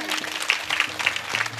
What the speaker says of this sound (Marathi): त्यांच्यासाठी जोरात टाळी.